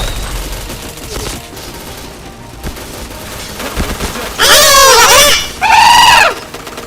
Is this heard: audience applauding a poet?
no